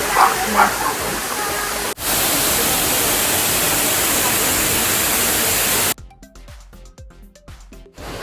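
Waterfall at Saklıkent gorge, a loud, dense rush of falling water that swells for several seconds before cutting to quieter surroundings, with voices talking at the start.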